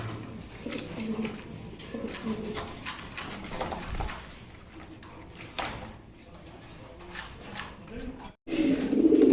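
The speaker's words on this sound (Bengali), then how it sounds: "এখানে একজোড়া কবুতর দেখতে পাচ্ছেন এটা হলো হলুদ সিরাজি কবুতর" Pigeons coo softly in the background, including a pair of yellow Sirazi fancy pigeons at a pigeon seller's, with steady chatter and handling noise throughout and a louder burst near the end.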